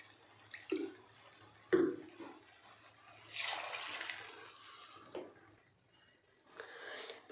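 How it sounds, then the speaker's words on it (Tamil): Water poured from a tumbler into rice and dal in a pot, heard as quiet splashes and pouring bursts separated by soft clinks and pauses, fairly close and faint. "அந்த டம்ளர்லேயே நம்ம அளந்து தண்ணி ஊற்றிக்கலாம்"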